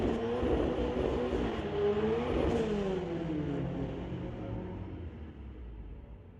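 A 2015 BMW and a 1995 Lexus drag race at a street-legal event, with engines droning and rising in pitch as they accelerate away, the roar gradually fading into the distance.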